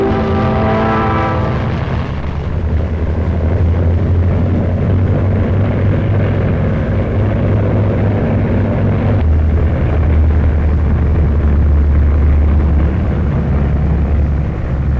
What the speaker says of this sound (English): The taxi plane takes a ferry pilot out to make delivery.